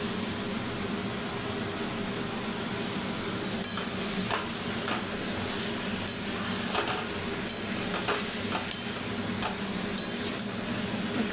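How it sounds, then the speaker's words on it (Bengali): Meat sautéed with spices in a pan gives a steady low sizzle and hiss, with intermittent scraping and clinking of a spatula stirring throughout. "সব মশলা দিয়ে আমার কষানো প্রায় হয়েই এসেছে।"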